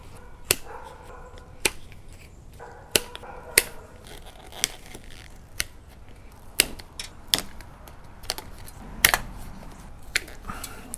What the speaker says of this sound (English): Probably need some tin snips for that.